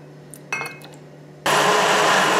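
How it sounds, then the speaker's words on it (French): A few glassy clinks are followed by a kitchen blender that roars to life and runs loud and steady, pureeing pears for a chocolate-pear yule log cake. "Alors je vais commencer par mixer les poires."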